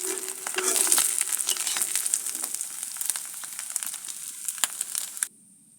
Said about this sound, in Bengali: মাছগুলো অনেক সুন্দর করে ভাজা ভাজা হয়ে গেছে